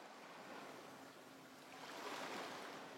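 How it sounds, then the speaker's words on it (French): Huge waves crash violently onto rocks below a cliff, a steady broadband roar of surf that swells louder toward the end, heard alone with no voices. "les énormes vagues en contrebas qui se fracassent violemment sur les rochers"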